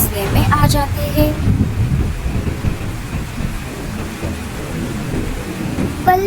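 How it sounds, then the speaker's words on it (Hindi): Heavy rain and thunder as a sound effect in an animated Hindi story about a house of banana leaves in a flood: a dense, loud downpour with rumbling thunder rolling throughout. "आसमान में घने काले बादल छा जाते हैं और थोड़ी ही देर में जोरदार बारिश शुरू हो जाती है"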